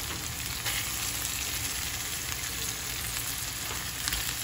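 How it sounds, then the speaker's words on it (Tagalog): Beef browns in a hot pan as the first step of a sauce, giving a steady, dense sizzle that lasts throughout with no speech. "So, ibigisa natin yung ating baka dito. Ayan, para ma-brown lang siya."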